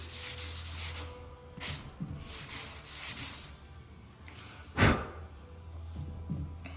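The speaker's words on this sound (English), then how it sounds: "We're gonna just take and sand that until we have it smooth." Wood putty being sanded smooth on a scratched wooden cabinet by hand, rhythmic rubbing strokes back and forth with a louder scrape near the end, close and without talk.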